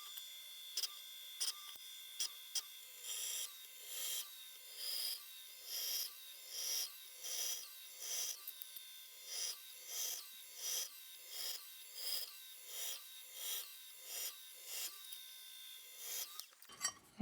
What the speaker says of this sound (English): I'm going to chamfer the edges of these holes just to clean them up